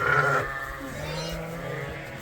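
Sheep on a farm being herded out of their shelter to go outside, with a loud bleat at the start followed by quieter bleating and shuffling.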